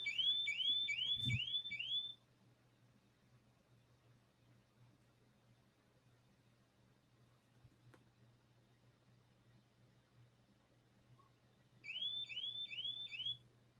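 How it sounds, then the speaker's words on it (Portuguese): A home alarm system going off in two bursts of rapid repeating high electronic chirps, loud at the start and again near the end, with a quiet hum between. "Ativou o alarme aqui de casa aqui."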